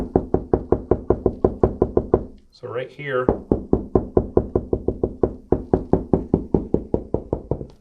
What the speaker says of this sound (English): I'm just going to do kind of like a knocking